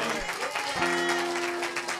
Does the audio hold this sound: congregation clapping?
yes